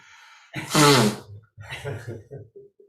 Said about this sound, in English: Who blew their nose?